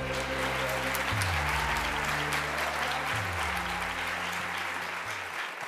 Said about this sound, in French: Oui, oui, vous pouvez les applaudir.